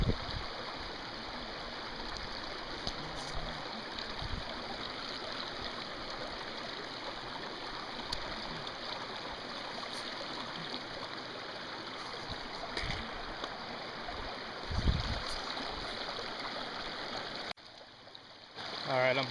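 A small creek on state forest land in Pennsylvania flows in a steady, continuous rush close by, with faint knocks and splashes now and then and a brief drop in level near the end.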